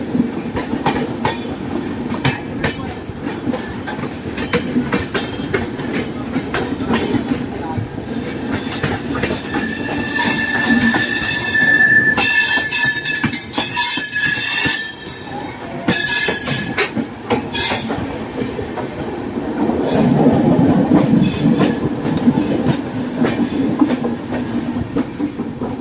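A Sampark Kranti express train runs in parallel with the Patna–Lokmanya Tilak express, its wheels clattering steadily and squealing now and then on the rails, with loud, continuous rolling noise from inside the carriage throughout.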